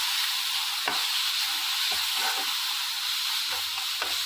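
Ground paste being stirred into fried onions and curry leaves in hot oil, with a constant loud sizzle and occasional spatula scrapes against the pan breaking through.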